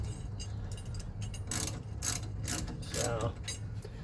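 A ratchet snugging the spindle-to-adapter bolts on a C4 Corvette wheel bearing, with several quick clicking bursts of moderate loudness in a row over a low background hum.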